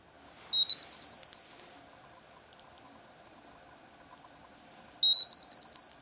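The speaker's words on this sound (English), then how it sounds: "You can hear that alarm coming out of this keychain." A TrackR Bravo keychain tracker sounds its alarm: loud, piercing rising electronic sweeps repeat for about two seconds, stop, then start again after a silent gap.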